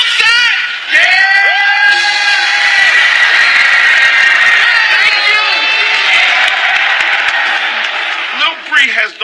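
A crowd cheers, whoops and yells steadily through a live rap performance, loud and close, with voices rising and falling in sustained excitement and a few shouted calls near the end.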